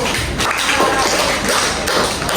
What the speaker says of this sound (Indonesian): Boleh kasih aplaus dulu.